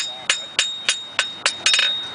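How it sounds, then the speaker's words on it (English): A farrier's hammer strikes steel on an anvil at a country fair, six or seven sharp metallic rings in a steady rhythm about a third of a second apart, close and clear. "When I strike the anvil, boom, he strikes the steel."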